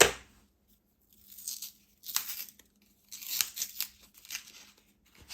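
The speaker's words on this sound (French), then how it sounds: "puis je retire doucement le papier avec les mains. À partir de là, c'est easy peasy, le papier se déchire très facilement" Paper liners are torn off frozen homemade ice cream cups by hand, giving several short, quiet ripping and crinkling bursts separated by brief pauses.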